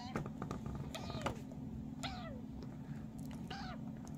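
A rescued kitten meows three times, high and thin, spaced apart over a steady low hum.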